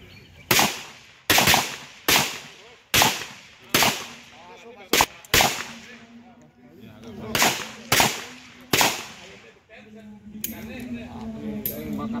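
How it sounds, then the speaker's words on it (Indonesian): Handgun shots crack one at a time during slow-fire pistol practice at a firing range, about a dozen sharp loud reports at irregular intervals, with voices murmuring faintly underneath. "Penembakan lambat. Waktu tidak terbatas, silakan komandan tembak."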